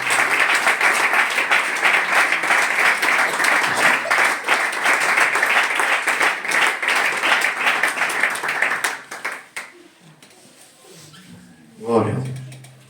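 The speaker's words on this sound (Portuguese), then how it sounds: "Uma salva de palmas para o nosso Deus em nome de Jesus Cristo" Church congregation claps together in sustained, dense applause for several seconds, then it thins out and fades, leaving a brief voice at the end.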